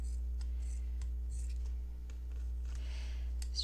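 Scissors snipping through fabric or paper while planning a sewing roll: a few faint, close, scattered cutting snips over a low steady hum, with no talking.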